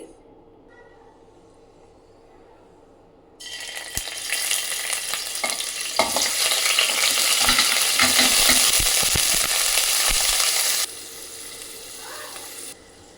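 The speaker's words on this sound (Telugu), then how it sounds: "ఇప్పుడు ఇదే నెయ్యిలో పన్నీర్ ముక్కలు వేసుకొని ఫ్రై చేసుకోండి." Paneer pieces dropped into hot ghee in a pan break into loud, bright sizzling that swells and crackles with stirring for several seconds, then drops back to a quieter hiss.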